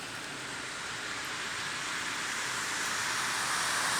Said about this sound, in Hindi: बारिश के मनाज़र हैं,